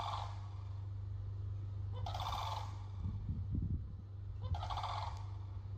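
A turkey gobbles in two loud bursts, separated by a few seconds, over a constant low electrical hum with faint rustling between the calls.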